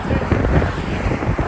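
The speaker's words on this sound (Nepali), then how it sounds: "टाइटानिक हावा हानिरहेछ" Strong wind buffets the microphone with a loud, continuous rumbling roar that fills the whole moment without a break.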